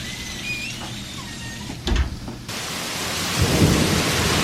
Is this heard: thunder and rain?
yes